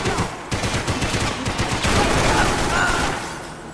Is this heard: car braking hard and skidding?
no